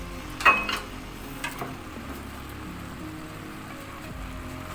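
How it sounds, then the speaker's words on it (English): Chopped parsley stirred into lasagna filling with spinach, a soft scrape and clatter near the start, then a faint steady rustle of mixing. "stir to combine everything"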